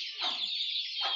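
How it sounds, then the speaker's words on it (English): Village chicken breeds on a small poultry farm, with steady high clucking and squawking from several birds close by, rising and falling across a short stretch with no talk. "breeds of village chicken."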